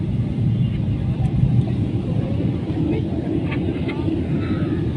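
Dense, steady low rumble inside a passenger airplane cabin during a rough, turbulent landing, with engine roar and airframe noise filling the space and faint speech blending into the din.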